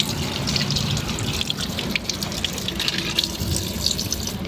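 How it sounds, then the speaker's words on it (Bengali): Cold water runs from a kitchen tap in a steady splashing stream, close and continuous, with small spatters as it hits the sink. "না ঠান্ডা জলই বেরোচ্ছে"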